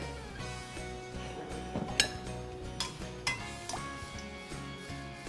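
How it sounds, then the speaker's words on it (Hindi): Medu vada frying in Malaysian palm oil gives a soft steady sizzle in a kitchen, with a few sharp metal clinks of utensils against the pan. "और अब हम इसे फ्राई कर देंगे।"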